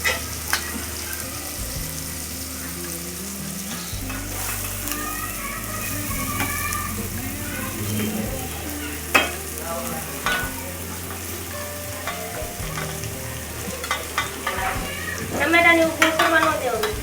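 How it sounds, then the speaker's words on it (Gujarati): Corn shevdo fries in a pan with a tomato tempering, giving a continuous sizzling hiss broken by the scrape and clatter of a spoon stirring, close and steady, swelling louder near the end, with faint voices in the background. "હવે આપણે ડોડાનો સેવડો નાખી દઈએ."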